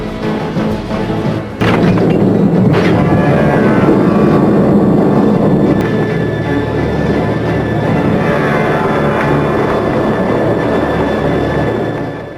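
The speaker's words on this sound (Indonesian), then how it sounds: "KA 220 segera diberangkatkan" A passenger train rumbles along steadily at close range, a dense low roar with rail clatter and a couple of sharp knocks near the start, holding loud throughout without voices.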